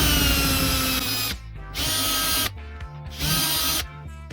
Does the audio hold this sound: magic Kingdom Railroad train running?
no